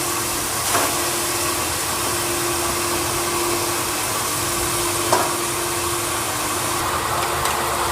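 Onions fry in ghee and oil for an egg biryani, producing a loud, dense, unbroken sizzle with a few faint clicks scattered through it.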